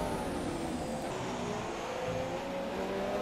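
A Sauber Formula 1 car engine in the racing game F1 2017 holds a steady, moderately quiet high-pitched whine as the car is held in fourth gear.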